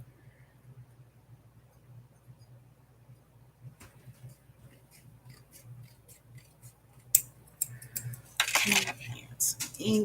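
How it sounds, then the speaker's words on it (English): Scissors cutting a journaling card in a craft session, starting as faint snips after a quiet stretch and building into louder, close crisp cuts and rustles near the end. "Just use the scissors."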